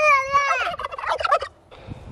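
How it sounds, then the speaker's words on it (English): Farm turkeys gobble loudly and close by, one rapid warbling burst trailing off into a softer answering call. "What do the turkeys say when you talk to them?"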